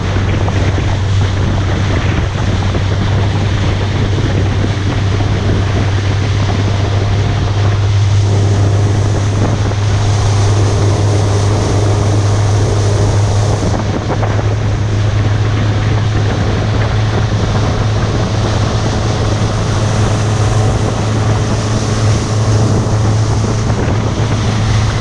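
A boat motor drones steadily while crossing a river to Laos, a loud continuous low hum mixed with heavy wind buffeting and water noise, with no talking.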